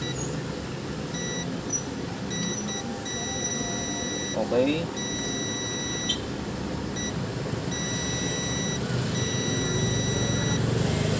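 A multimeter continuity buzzer, used while testing an amplifier with no sound due to zero bias, sounds in several short and longer high-pitched beeps, with a brief spoken word and background hum around them.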